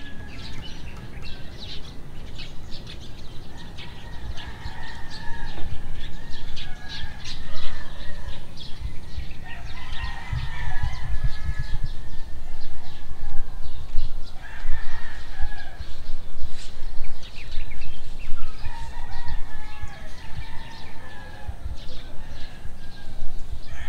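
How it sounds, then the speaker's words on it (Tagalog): Roosters crow and birds chirp and call throughout over a low outdoor background hum, some calls near, others farther off. "Subukan natin i-capture yung tunog ng mga ibon,"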